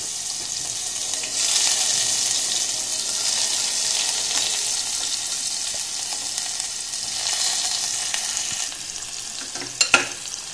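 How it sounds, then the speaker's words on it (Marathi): Onion and curry leaves frying in a pan with cumin, a steady close sizzle that carries through the whole clip. It is stirred now and then, and near the end there are a couple of sharp utensil clinks. "कांदा परतून घेतोय मी."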